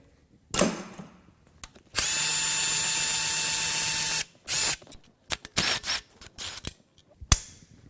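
The timing chain tensioner on a BMW 335i N54 twin-turbo engine is loosened with a power tool, heard as a close, loud two-second whir followed by short bursts and ratcheting clicks.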